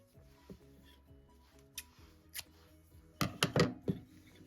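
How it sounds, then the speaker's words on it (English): Scissors snip crochet yarn up close, a few soft separate clicks followed by a quick cluster of sharper cuts near the end, over a faint low background hum. "at this point, I'm just going to cut it off."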